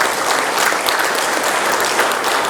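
Steady, loud applause from a conference audience at an AI summit, many hands clapping continuously without speech.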